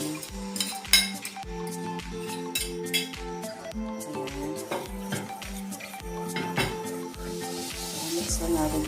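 A spoon stirs mashed banana into oats in a bowl, giving steady clinking and scraping against the bowl in a regular rhythm, close and moderately loud, with background music underneath.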